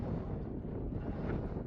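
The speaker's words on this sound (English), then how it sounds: "It's pretty windy." Steady wind buffeting a microphone outdoors, a constant low rumble of gusts with no voices, filling the whole short stretch at a fairly loud level.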